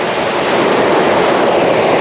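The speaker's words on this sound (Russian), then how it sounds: "Все-таки шторм увеличивается, мне кажется такие волны пошли." Stormy sea waves breaking on a Crimean beach make a steady, loud, broadband roar of surf that fills the whole stretch with no pauses and no voices.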